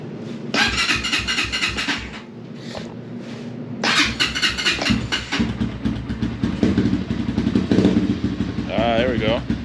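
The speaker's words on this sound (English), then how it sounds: "So let's fire it up and see how she sounds." A Honda CRF230F dirt bike engine cranks over, catches and revs up loudly close by, settling into a steady, throaty idle with occasional blips of throttle, with a brief voice near the end.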